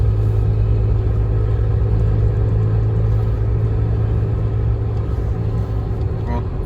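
A car just back from repair drives off, its engine and road rumble loud and steady from inside the cabin.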